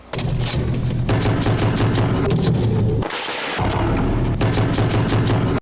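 An American Browning 12.7 mm heavy machine gun mounted on an armored vehicle's roof fires loud, close, rapid bursts in a combat zone near Bakhmut, with one brief pause in the middle before the hammering resumes.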